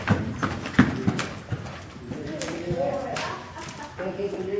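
Horse hooves thud and clop in an uneven rhythm during a jumping lesson at a 2'3" fence, fairly close and mixed with an instructor's voice and background noise.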